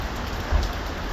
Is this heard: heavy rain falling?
yes